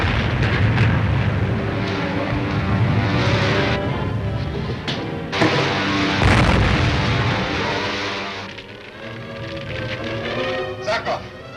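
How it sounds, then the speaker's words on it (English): A loud, rumbling blast from a 1940 Flash Gordon film serial, with booming bursts that swell and recede over several seconds, mixed with dialogue and a soundtrack. "There was an explosion."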